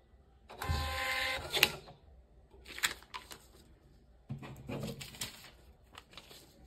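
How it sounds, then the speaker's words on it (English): An Epson TM-T88V thermal receipt printer runs in a quiet room, giving short buzzing print bursts with clicks and a paper-cutter snap, then further intermittent whirring feeds and rattles, close and fairly soft. "Once again, we will press the button and turn it on to see the difference in printing."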